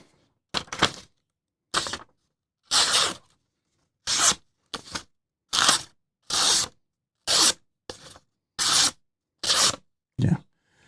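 Mini Nova pocket knife slicing through a sheet of paper in a series of about ten short, crisp cutting strokes, each a sharp rasping rip separated by brief silences, close and fairly loud.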